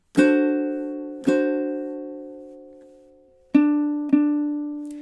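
A ukulele plays measure 20 of a song with four strummed chords, two spaced far apart and two closer together, each ringing out and decaying, close and clear with no voices.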